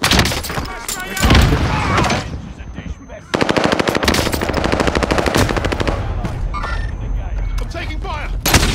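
Rapid automatic gunfire in the Call of Duty Warzone video game on Rebirth Island, with long sustained bursts of close, loud shots, a brief lull, then another extended volley, mixed with game sounds and a voice calling out.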